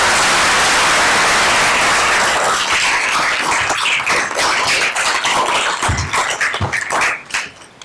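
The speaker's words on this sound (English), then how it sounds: "if we could please give everyone a big round of applause" A crowd applauds at a full commission meeting during an awards presentation, with steady, dense clapping that fills the room and then thins into scattered individual claps near the end.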